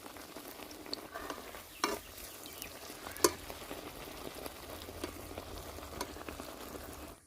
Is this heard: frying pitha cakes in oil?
yes